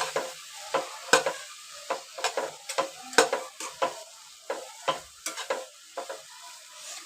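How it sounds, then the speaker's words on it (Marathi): Raw mango and jaggery being sautéed in a pan, a spatula scraping and stirring in a steady series of repeated strokes over a soft background sizzle, close and moderately loud with no talking. "मध्ये मस्त चांगला परतून घ्यायचा"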